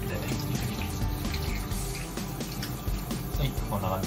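Tap water runs steadily over a horse mackerel as it is rinsed in a sink, a close continuous splashing stream with some faint clinks.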